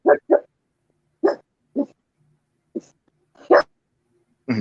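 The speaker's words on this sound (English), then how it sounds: "You hear his dog?" A dog barks in short separate bursts, a few close together and then spaced out, fairly close and loud with silence between.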